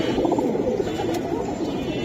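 Pigeons coo softly and steadily at a Bangladeshi pigeon seller's stall, where silver Giribaj and other breeds are kept. A low, continuous murmur of cooing fills the background under faint ambient noise.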